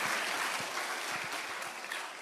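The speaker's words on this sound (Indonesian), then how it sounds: "Jadi tolong berikan tepuk tangan kepada saya." An audience at a motivational seminar gives a short, full burst of applause, dense and evenly sustained throughout.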